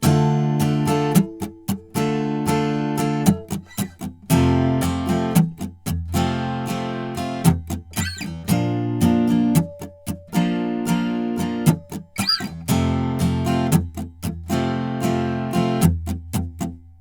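Acoustic guitar strummed in a steady repeating pattern for a song, with sharp percussive muted slaps punctuating the chords; close and clear, no voices.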